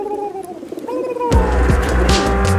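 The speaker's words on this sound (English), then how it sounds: "Sound of a Pigeon" A pigeon coos in a few low, drawn-out tones, followed by a louder, broader rush of noise in the second half.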